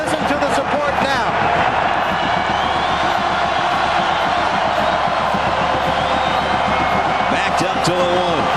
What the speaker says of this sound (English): I have not been down here on the football field to hear this crowd this loud in a number of years